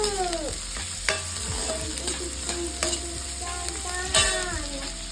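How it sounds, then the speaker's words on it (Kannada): Finely chopped large onion with garlic frying in hot oil in a pan, a steady close sizzle with scraping stirring clinks and sharp utensil knocks throughout, no voices. "ಆನಿಯನ್ ಹಾಕ್ತಾ ಇದ್ದೀನಿ ಆಯಿಲ್ ಸ್ವಲ್ಪ ಫ್ರೈ ಆಗಬೇಕು"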